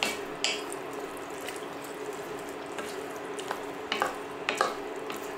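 A spoon stirring mushroom pasta in a pot in a home kitchen, making soft scraping and wet sloshing sounds with a few sharper clinks against the pot, quiet and close with no talking.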